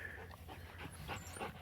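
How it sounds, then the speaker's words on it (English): A dog panting in quick, soft bursts with thin high whimpers mixed in, close by and fairly quiet over a low steady background hum. "I got to keep an eye on these dogs."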